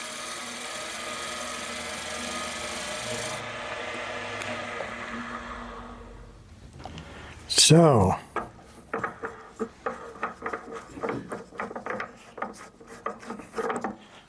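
Wood being sanded with an 80 grit sanding belt on a Jet lathe: a steady grinding rasp, then a sharp scraping burst and a run of short intermittent rubbing strokes, with someone speaking briefly.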